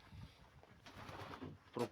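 Sport pigeons coo softly in a pigeon loft during breeding season, low rolling calls repeating across a couple of seconds, with a louder burst near the end.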